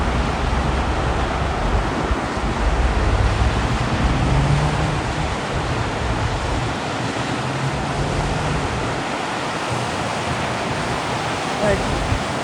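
Tidal river in New Brunswick where a big tide runs against the river's flow, giving a steady, dense roar of rushing, churning water, loud and continuous throughout, with possible faint wind.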